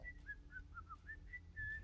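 Characters whistling in the video game Shadow of the Tomb Raider: a series of seven short, clear whistled notes in an even rhythm, fairly faint over a low background hum, with no talking.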